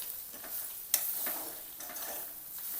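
Bitter gourd thecha, a coarse gourd mash with red chilli powder and ground sesame, peanut and niger seed, is stir-fried in a pan. A steady, soft sizzle runs underneath, with light stirring scrapes and one sharp utensil clink near the start.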